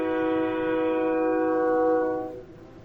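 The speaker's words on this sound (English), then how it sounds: "there's a train outside my house all the time, every day" A train passes outside a house and sounds a loud, sustained multi-tone horn blast lasting about two seconds. The horn cuts off, leaving a low rumble of the rail cars beneath.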